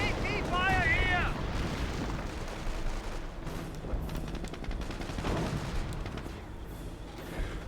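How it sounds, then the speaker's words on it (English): Anti-tank gunfire and heavy battle explosions in Company of Heroes, a dense roar of booms and shots running steadily throughout, with a voice talking over the combat noise at the start. "Under AT fire here!"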